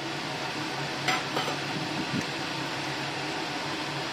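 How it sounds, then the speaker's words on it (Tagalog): Steady bubbling hiss of water boiling in a pot, close by, with a couple of soft clinks near the middle. "kumukulo na yung tubig"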